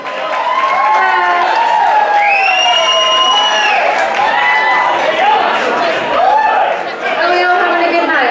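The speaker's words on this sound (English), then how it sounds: "could you give a big round of applause for the first time this evening, Miss Eleri and Angharad." An audience at a live music evening in a brewhouse applauds and cheers for two performers, a loud, dense mix of clapping, shouts and crowd chatter, with voices mixed in throughout.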